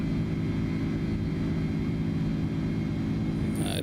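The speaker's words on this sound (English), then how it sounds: "There we go. Gear up." Steady loud cabin drone of an Inibuilds A310 airliner just after takeoff in Microsoft Flight Simulator 2024, a continuous low engine roar with a brief mechanical shift near the end as the gear comes up; no one talks.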